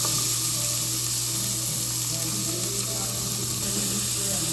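Chopped onion sizzling in a pan of hot olive oil over medium heat, a steady close hiss and crackle of frying that holds evenly throughout with no talking.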